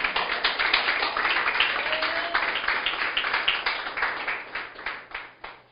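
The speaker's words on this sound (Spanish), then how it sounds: "Aplauda al Señor." Church congregation clapping for the Lord during a sermon, a dense burst of many hands that gradually thins and fades out over several seconds.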